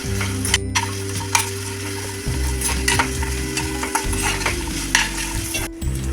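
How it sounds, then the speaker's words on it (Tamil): Onions sizzle in a pan while a utensil scrapes and stirs repeatedly, frying until translucent, with occasional clinks against the metal over a constant frying hiss. "வெங்காயம் கண்ணாடி பதத்துக்கு வர வரைக்கும் வதக்கிக்கலாம்."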